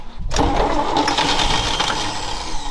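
An old truck that has sat unstarted for years cranks and then catches, its engine settling into a loud, rough, steady idle close by that holds for the rest of the moment.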